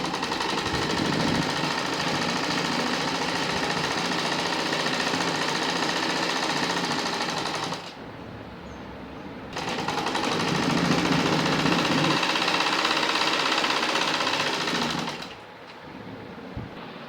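An electric sewing machine stitching a sleeve seam runs in two long fast bursts of rapid, close mechanical clatter, separated by a short quiet pause and ending with another stop.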